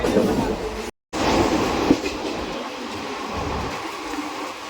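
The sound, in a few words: riding a train in Mumbai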